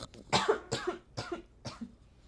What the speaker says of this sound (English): I need to cough, though.